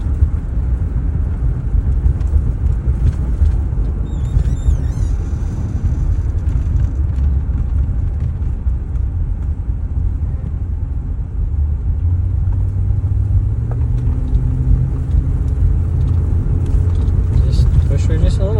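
A 1977 Chrysler New Yorker's engine runs while driving, a steady low rumble that rises gradually as the car accelerates. Someone talks over it.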